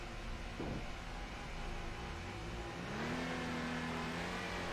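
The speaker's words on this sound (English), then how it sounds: "Listen to that engine" Race car engine in the Assetto Corsa racing game at Brands Hatch, revving loudly and climbing in pitch as it accelerates, with a brief drop and renewed rise around a gear change, no talk.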